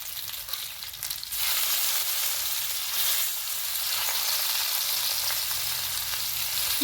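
Fish fillets frying in a pan just after being flipped, a loud continuous sizzle and hiss that swells after an early burst and holds steady throughout, with no talk.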